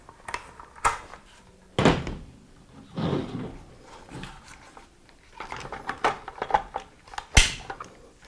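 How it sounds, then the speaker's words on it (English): Bulgarian AK rifle has its charging handle racked, a few sharp metallic clacks and snaps spread out between quieter handling knocks, close up with no talking. "Rack the weapon, no problem."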